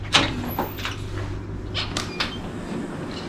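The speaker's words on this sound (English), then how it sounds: "This is coming into the front door." A cabin unit's front door opens with a sharp latch click, followed by a few light knocks and clatters against a quiet room hum.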